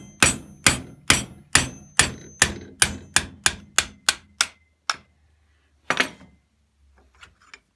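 Sharp metal hammer blows drive bushings from a John Deere tractor steering shaft: about a dozen close, loud strikes in a quickening steady rhythm, then a pause, one more hit and a couple of faint taps.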